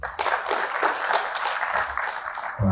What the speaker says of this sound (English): Another round of applause for you, please.